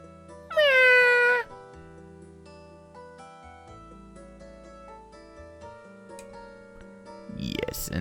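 A cat lets out one loud, drawn-out meow near the start against a quiet soft musical backdrop in a city center visual novel scene, followed by low ticking tones and a rising noise at the end.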